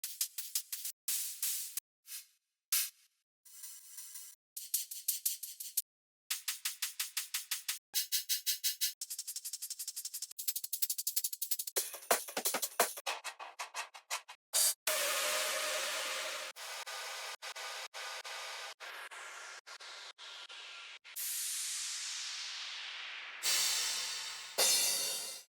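Drum and bass top loops of shakers, cymbals, hi-hats and percussion play in a shifting sequence of bright, hissy rhythmic patterns, some sections short and choppy, others sustained and washy, ending with a few sweeping noise bursts.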